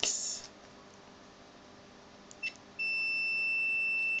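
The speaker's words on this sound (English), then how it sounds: "put it on continuity test and see if it" A multimeter on its continuity setting, used to test a repaired Diazed fuse with a glass end, gives a steady, clear electronic beep of about one and a half seconds near the end, after a few faint clicks and quiet background.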